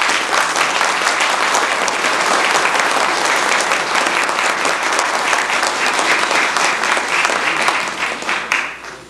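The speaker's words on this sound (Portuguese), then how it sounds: "Uma salva de palmas para" Church congregation at a Baptist church anniversary service in São Paulo breaks into loud, dense applause, sustained and close for about nine seconds before tapering off at the end.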